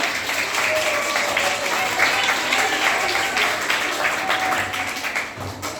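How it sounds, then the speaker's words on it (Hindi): Students in a classroom applaud a lesson on food and nutrition, a steady wash of clapping that fills the whole clip at even strength, with faint voices mixed in. "चलिए एक बार जोरदार ताली बजा दीजिए।"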